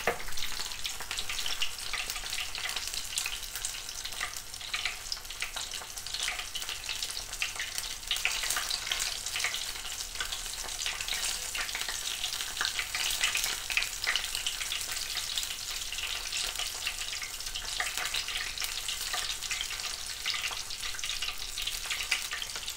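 Meat pastels deep-fry in hot oil with a dense, continuous sizzle and crackle, steady and close throughout with small bubbling bursts and no talking.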